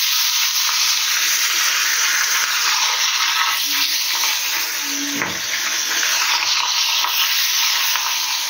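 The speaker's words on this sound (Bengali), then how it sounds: "চলো মাছগুলো ঝটপট ভেজে নিই" Fish pieces frying in hot oil in a pan on lowered heat, a loud, dense and continuous sizzle close by with no talking.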